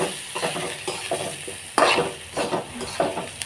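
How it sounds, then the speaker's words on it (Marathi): Ridge gourd frying in a pan gets stirred, with a spoon scraping and clattering in irregular strokes over a soft sizzle, several sharper scrapes standing out close and loud, with no talking. "आता हे सगळं हलवायचं"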